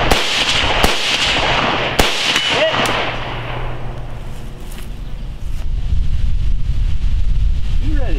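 Rifle shots crack out during a 3-gun shooting stage, a few sharp, loud reports spaced apart in the first seconds, followed by outdoor wind noise and a voice speaking.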